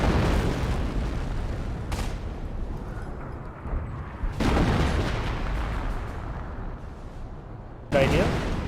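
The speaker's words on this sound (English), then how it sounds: "looks like one of the snipers got hit by another barrage" In the World War II strategy game Company of Heroes, an artillery barrage lands as a few heavy, rumbling explosions spaced seconds apart, each with a long roaring tail, under a steady din of battle and a commentator talking.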